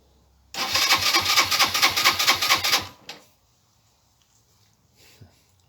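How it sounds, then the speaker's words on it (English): A Suzuki GN 125 motorcycle engine catches and runs loud and close for about two seconds, with a rapid pulsing beat as the throttle is worked, then cuts out abruptly into near silence, leaving faint knocks. "So I'm just playing with the throttle really."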